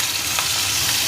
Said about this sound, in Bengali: মাছ ভাজার জন্য আমি মিডিয়াম ফ্লেমে আঁচটাকে রাখবো।